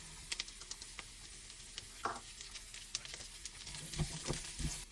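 Garlic, onion and diced potatoes fry in a pan for a Filipino breakfast, a quiet continuous sizzle with scattered crackles and soft clicks of stirring.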